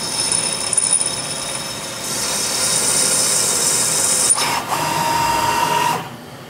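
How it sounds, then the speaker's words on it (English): A Hardinge CNC lathe running a drill cycle on a rifle barrel tenon, a loud steady mechanical whir with high whining tones that rises partway through and then cuts off near the end. "that's the drill cycle finished"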